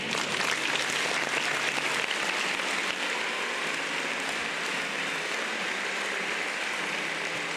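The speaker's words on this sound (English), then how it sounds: "And we give him a nice round of applause." A crowd gives a lively round of applause, dense and loudest at the start, then settling into steady, slightly softer clapping that carries on alone for several seconds.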